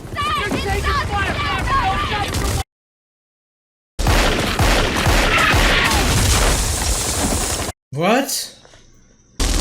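Gunfire and explosions crackle and boom through a war movie battle scene amid shouting voices, the bursts cut by a sudden silence and then a sharp closing blast.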